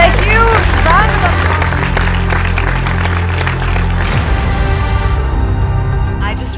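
Audience applause at a school event in Amritsar welcoming a female guest onto the stage: dense, steady clapping from a large crowd with some voices and music underneath, fading slightly toward the end.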